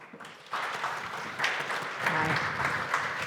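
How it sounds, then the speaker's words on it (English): An audience claps for a panel at a customer-experience strategy event. The applause is steady and fairly close, swelling in waves over the whole stretch, with some faint voices mixed in. "Give them a round of applause."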